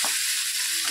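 Steady, loud sizzling from eggplant bharit mixture being stirred and sautéed in a hot pan, a continuous close frying hiss with faint scraping underneath.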